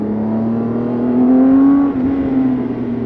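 A BMW inline six-cylinder motorcycle engine of over 1600 cc runs with a smooth, steady hum that swells briefly in a rev and settles back, loud and close with no talk.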